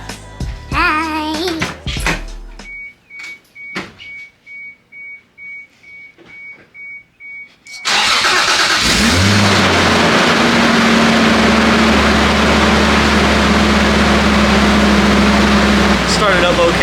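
A steady beeping chime plays with some faint voice sounds, then a Mk3 Supra engine, freshly filled with 10w40 oil, abruptly cranks and catches, settling into a loud, steady idle close by.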